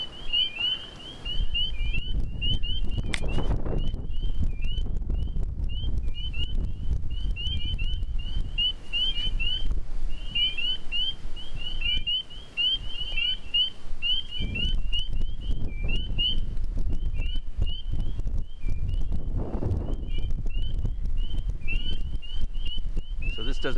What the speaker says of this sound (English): So here we got frog sounds.